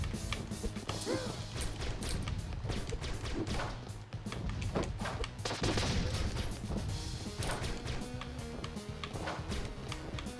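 Rapid bursts of game gunfire and mechanical clicks and crashes from enemies in the video game Flinthook, dense and repeated throughout at moderate loudness.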